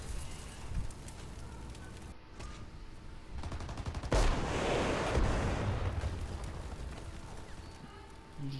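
Gunfire in War Thunder, faint bursts and scattered shots under a hissing, rumbling battle backdrop, swelling into a louder sustained barrage midway before easing off.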